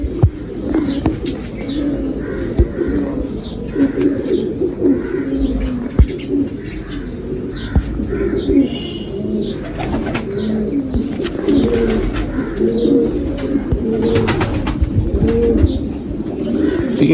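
Pigeons kept for pigeon flying coo steadily and close by, with scattered chirps and occasional bursts of flapping wings running throughout.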